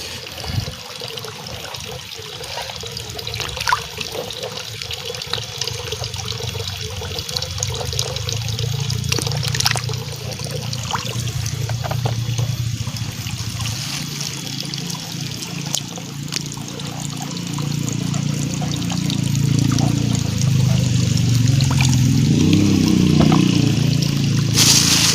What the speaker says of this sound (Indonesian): Teman-teman, jambunya kita cuci biar bersih.